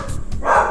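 A dog named Walter lets out a single short, sharp bark, loud and close, alone without any talking.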